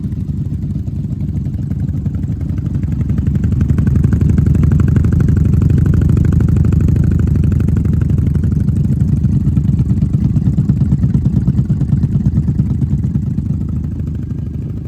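A third-generation Honda Magna 750 VF750C fitted with a Vance Hines exhaust idles close by, a loud, steady low rumble with fast even pulses and a slight swell in level partway through, no talking.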